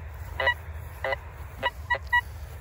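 Several short, bright beeping tones from a Golden Mask 1+ metal detector fitted with an Xtreme 9.5 coil, sweeping over a field target, sounding in a loose irregular sequence over a low outdoor background rumble.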